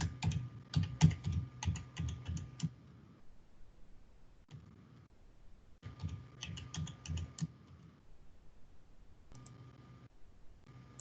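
Quiet computer keyboard typing comes in bursts of rapid clicks separated by short pauses, as a password is entered.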